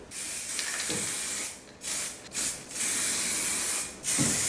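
A spray can applying 2K primer to a rusty Mercedes, heard as a near, steady hiss in several long bursts separated by short pauses, with no talk.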